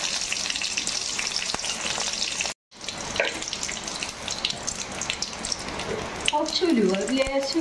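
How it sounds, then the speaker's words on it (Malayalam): Mustard seeds crackling in a hot pan for a curry tempering, with a steady frying sizzle and scattered pops throughout, a brief cut partway through, and faint background sounds mixed in. "ഞാനിനി അതിലേക്ക് കടുക് തളിച്ചിടാൻ പോവാണ്."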